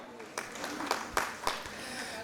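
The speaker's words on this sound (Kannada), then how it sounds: "ಜೋರಾದ ಚಪ್ಪಾಳೆ ಬರಲಿ ಬಸವಣ್ಣನವರಿಗೆ" Scattered audience handclaps for Basavanna at a Kannada cultural gathering: a few separate, fairly quiet claps spaced apart rather than a full ovation, under a faint background of voices.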